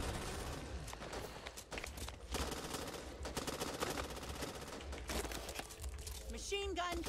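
Rapid machine gun bursts crackle through a video game firefight, dense and loud for most of the stretch with brief lulls, mixed with other game effects and a few electronic tones near the end.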